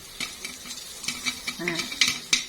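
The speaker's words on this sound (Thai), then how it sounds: "รอไปจนกว่า เสียงที่มันแตกบุบบบุบบหยุดลงนะคะ เราก็ปิดไฟได้เลย" Sharp pops burst irregularly from popcorn in a pan over a low sizzle, a handful of loud cracks spaced apart with quieter ones between.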